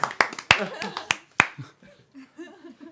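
A handful of sharp hand claps ring out in the first second and a half, then give way to people talking.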